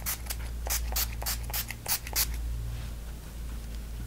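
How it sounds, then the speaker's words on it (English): NYX Dewy Finish makeup setting spray is misted in a series of short, close hissing spritzes, roughly eight quick pumps, over a low steady hum. "to set my base makeup, I'm gonna use my NYX Dewy Finish makeup setting spray"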